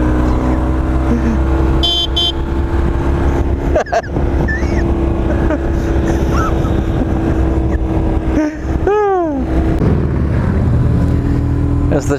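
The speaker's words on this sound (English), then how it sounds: "And we've been sitting in this traffic for a while." Road traffic near the Shenandoah River while stuck in a slow jam, with idling and passing car engines droning steadily, a couple of brief horn toots, and a rising engine or siren-like sweep near the end.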